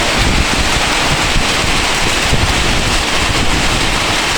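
Strong storm wind roaring constantly with heavy rain, a loud, dense, steady rush close to the microphone, with no voices.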